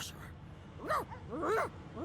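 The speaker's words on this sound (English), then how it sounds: "The dog whines and continues pawing at its nose." A dog in Divinity: Original Sin whines in rising and falling cries, three separate whimpers in about two seconds, fairly close and clear over a quiet game background.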